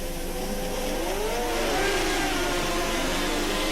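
Speedway motorcycles at a 1986 Swann Series meeting rev hard together as the race starts, making a loud continuous engine roar with rising and falling pitch that holds for the whole moment.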